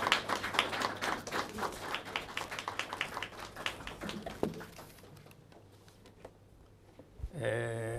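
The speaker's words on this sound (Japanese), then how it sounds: "本日の講師近藤克重先生を大きな拍手でお迎えください" An audience at a library culture lecture claps to welcome the speaker, a fairly faint, steady patter of hands that fades out after several seconds, followed by a brief low rumble.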